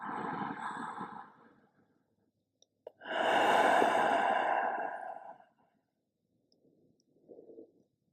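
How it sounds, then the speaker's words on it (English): A big cleansing breath during a slow yoga flow: a long, close exhale lasting about two and a half seconds, following softer breathing, with a short faint breath near the end. "Taking a nice big cleansing breath here."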